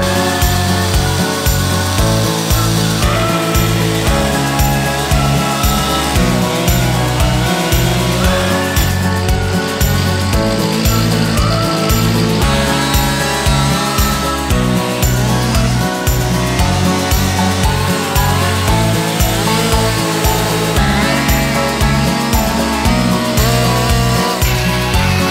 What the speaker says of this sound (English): start up your chainsaws